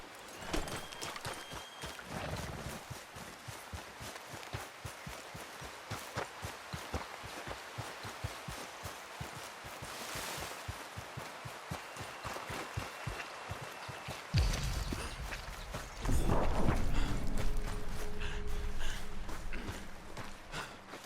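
Horse hooves clip-clop in a steady, even rhythm through Red Dead Redemption 2's game world, moderately near and fairly quiet, continuing for a long stretch before giving way to louder ambient noise and a brief voice.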